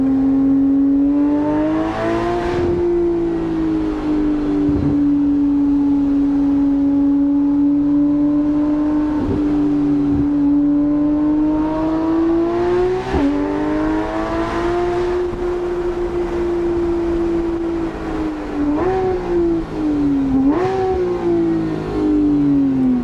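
Porsche 991.1 GT3 RS flat-six holding a steady, loud high-rpm howl around 7,000 RPM on a Smoky Mountains drive, with brief dips and surges at shifts and throttle lifts, close and continuous without talk.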